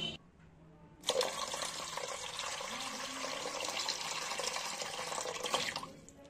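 Water pours steadily from a tap into a steamer pot being readied for steaming puli pitha, a continuous close splashing gush lasting several seconds before it stops, with no talk.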